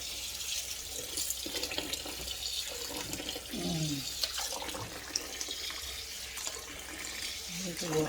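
Tap water runs steadily over rice being washed in a sink for jollof, with splashing and swishing throughout and a voice talking over parts of it.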